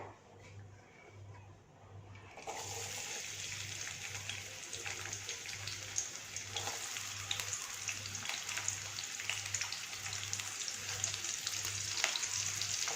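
Chopped large onions drop into a ladleful of hot oil in a kadai for a potato cauliflower masala and sizzle steadily, a close, loud frying hiss that starts suddenly after a quiet moment and carries on evenly, with no talking.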